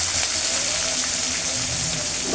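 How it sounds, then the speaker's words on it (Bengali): Spice paste frying in hot oil with bay leaf, green cardamom and cinnamon for chicken curry, a steady loud hiss and sizzle with no pauses, no talking over it. "আমার পেস্টটা আমি ভালো করে ব্রাউন কালার করে নেব"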